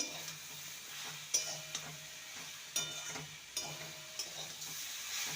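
Pumpkin stem curry with sugar is stirred in a pan, a spoon scraping and clinking against the metal in irregular strokes over a faint sizzle, with a few sharper knocks standing out.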